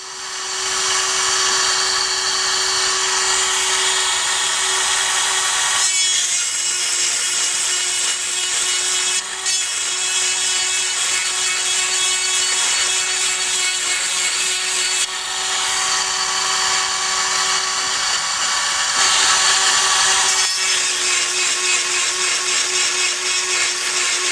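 Continuous high-pitched grinding whine of a Granberg G1012XT 12-volt chainsaw chain sharpener working a chain, loud and steady throughout with brief dips in pitch and level as the stone moves between teeth.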